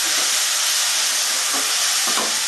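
Tomato water poured into a hot pan while cooking Bengali-style bhindi pyaz (okra and onion) sets off a loud, steady steam hiss that fills the clip, with no talking.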